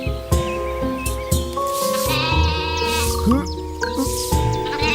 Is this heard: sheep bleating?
yes